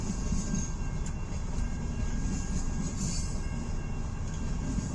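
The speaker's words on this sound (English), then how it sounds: "That's a really long train." A long CN mixed freight train, with many tank cars, speeding up as it rolls past close by: a loud, steady rumble with rhythmic wheel clatter and a faint high squeal above it.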